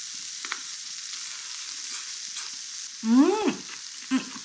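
Garlic sizzling on a grill beside sliced brisket at a casual drinking meal, a soft steady sizzle with a few faint clicks and a short whistling squeak near the end.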